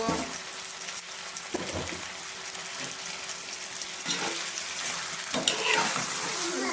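Salted chops fry in a pan with a dense, continuous sizzle as they are lightly mixed, a few louder scraping stirs breaking through the crackle; close-up, with no voices.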